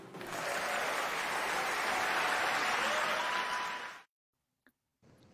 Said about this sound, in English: See, you like how I kept the applause in there?